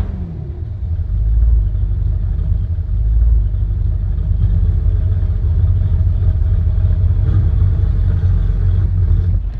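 A mid-engine C8 Corvette convertible rumbles with a deep, steady low growl heard from inside the cabin, the exhaust note holding fairly constant with slight swells and no talking over it.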